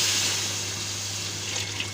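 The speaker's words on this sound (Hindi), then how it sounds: "अब इसमें तकरीबन 3 गिलास पानी ऐड करेंगे इसमें।" Water pours steadily into a pot of frying okra and meat masala on the stove, a continuous close rushing splash with a low steady hum beneath, running alone for about two seconds.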